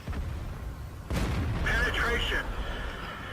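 Tank cannon shot in a tank battle video game, a single deep boom about a second in, followed by a brief ringing metallic tail under game noise and someone talking.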